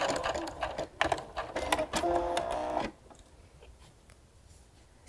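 A sewing machine fitted with a walking foot feeds layers of fabric, a fast steady whirring stitch rhythm for about three seconds that stops abruptly, leaving quiet room noise.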